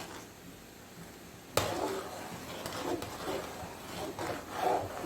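A spoon stirs and scrapes through cow's colostrum milk kheer in a pot: soft rubbing and scraping strokes, close by, with one sharper knock near the start and uneven swishes after.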